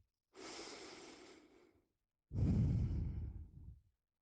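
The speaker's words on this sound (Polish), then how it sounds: "Weź głęboki oddech." Two slow, deep breaths close to the mic, a long inhale followed by a heavier, louder exhale, with silence between.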